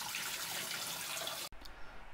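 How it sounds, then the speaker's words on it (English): Coolant drains from a BMW E39's M54 engine into a drain pan as a steady, close splashing stream that runs for about a second and a half, then cuts off abruptly to a quieter trickle. "While we let the rest of the coolant to drain"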